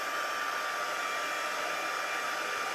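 A heat tool dries 99% alcohol ink in a blended alcohol ink craft technique, giving a constant loud, close blowing hiss that holds steady throughout with no voices.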